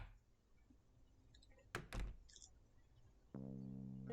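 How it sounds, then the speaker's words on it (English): A front door shoved open, a heavy thunk and rattle of the door swinging near the listener, followed by a low steady hum; quiet room otherwise. "I walk up to the front door and shove it open with my good arm"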